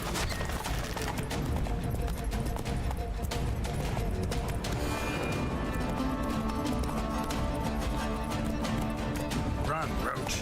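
Roach the horse gallops in The Witcher 3: Blood and Wine. Rapid, loud hoofbeats pound steadily throughout, with a voice talking over the game audio.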